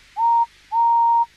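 A steam engine whistle in an animated railway story gives two clear, loud, pure-toned blasts, a short one followed by a longer one.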